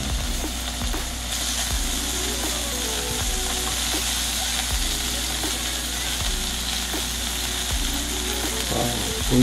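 Costco chuck flap beef salt-grilling in a pan sizzles steadily and close, a continuous crackling hiss with faint clicks of utensils and no talk.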